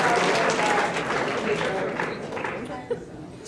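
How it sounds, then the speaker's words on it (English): Conference audience applause, a dense clapping wash that fades gradually, with whoops and raised voices mixed in and a brief tonal sound near the end. "Let's give a big round of applause."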